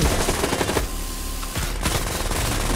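Rapid bursts of automatic gunfire in the video game Knives Out, loud and dense, with a brief lull before the firing resumes.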